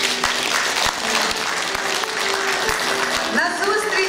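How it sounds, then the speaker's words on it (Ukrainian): A crowd at a 70th-birthday jubilee celebration in a hall applauds steadily and fairly loudly throughout, dense clapping with a few sharper claps standing out, and a voice faintly beneath it. "Оплески!"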